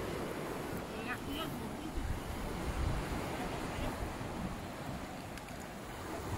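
Sea surf washes steadily onto a beach at Alushta, a continuous low wash of waves with some wind on the microphone, fairly distant and even, with no talking.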